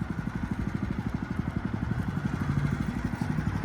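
A parking-line painting machine's small engine runs close by with its RPMs raised slightly. It makes a steady, rapid putter with an even pulsing rhythm, and no voice is heard.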